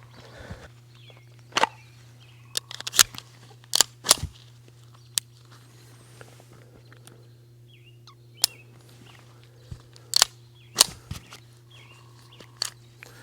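Sharp, loud reports from a Springfield 1911 Elite Operator 10mm pistol firing Winchester white box 180 grain ammo, several single shots spaced irregularly over a steady low hum, some close together in pairs.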